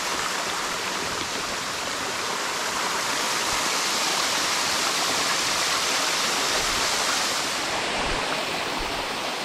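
Waterfall beside the Ouachita Trail near the Black Fork Mountain and Foran Gap area, a steady loud rushing roar of falling water, close and unbroken with no voices.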